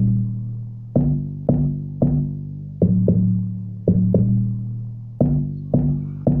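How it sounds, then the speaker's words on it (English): Log drum pattern in Caustic 3 doubled by an 808 bass, giving round, pitched hits with a deep sustained low tail in a syncopated groove, loud and isolated without speech. "I traced it back with an 808 bass so it can have that strong"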